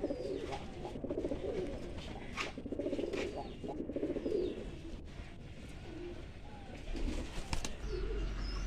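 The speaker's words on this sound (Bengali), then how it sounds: "পায়রাগুলো বেরোনোর জন্য ছটফট করছে" Pigeons restless in a loft, several birds cooing in low repeated bursts fairly close by, with faint rustles and a brief flutter, no talk.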